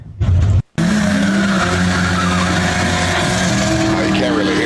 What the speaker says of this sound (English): Took the Studebaker drag racing. Don't talk. Just do a burnout.